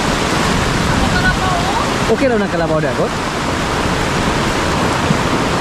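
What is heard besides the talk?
heavy rain and flooding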